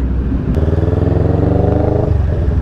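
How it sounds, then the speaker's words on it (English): CFMoto 400NK motorcycle engine revving close by, a loud throbbing drone with a sharp throttle blip that climbs briefly in pitch and then settles back to a steady idle-like rumble. "Sounds like a macho bike."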